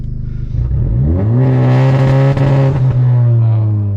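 A 10th-generation Honda Civic Si engine with a Greddy intercooler holds a loud, steady rev on two-step launch control, rising in pitch and then sitting at a harsh, buzzing drone with a couple of brief stutters.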